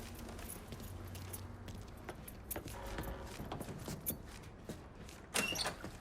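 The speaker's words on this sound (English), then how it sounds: "Lincoln, pick up the keys." Keys jangle and clink in the Mafia III video game as they are picked up, a scatter of faint metallic rattles and taps ending in a sharper jingle, quiet under low background noise.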